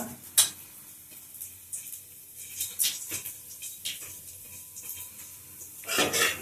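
Whole spices, bay leaves and dried red chillies crackle and sizzle in hot oil in a kadai with sharp pops and a few clinks of a pan, no talking.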